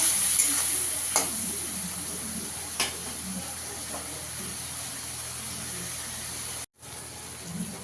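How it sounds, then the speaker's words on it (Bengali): Cumin, coriander and Kashmiri chilli powder frying in oil in a pan for a vegetarian cabbage dish, giving a steady close sizzle and hiss with occasional scraping stirs and a brief dropout near the end. "মশলাটাকে ভালো করে কষিয়ে নেব।"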